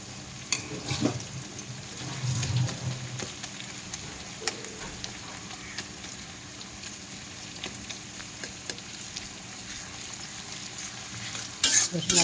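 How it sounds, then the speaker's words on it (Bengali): Garlic paste fries in a pan with a continuous sizzle, stirred with scraping and tapping sounds that come close and clear throughout. "রসুন বাটাটা দিয়ে ভালো করে একটু ভেজে নেব।"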